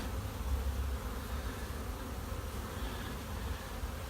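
A dense, continuous buzzing of a package of honeybees at a hive in a bee yard fills the air, steady and close, with no voices.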